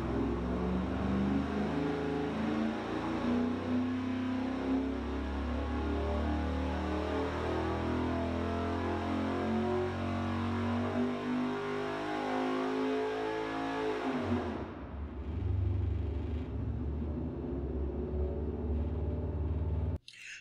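A carbureted Ford 302 5.0L V8 test engine with a mild cam, ported heads, rockers, headers, MSD distributor and Edelbrock intake and 750 carburetor holds a loud, steady roar, then drops off sharply and settles lower before cutting out.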